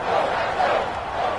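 Football stadium crowd at a Jets versus Patriots game cheering and clapping for the defense: a steady, broad roar of crowd noise swelling in waves, with no distinct voices.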